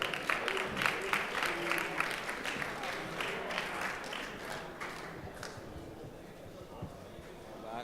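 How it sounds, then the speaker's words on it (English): An audience at a Call of Duty Black Ops tournament final in London applauds a second-place team with sustained, moderately distant clapping that fades slightly toward the end, with voices mixed in. "Big round of applause for them"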